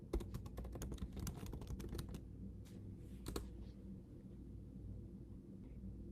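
Keys on a computer keyboard are tapped in a quick, close burst of clicks as a search term goes into a search bar, then fall quiet against a faint low background hum.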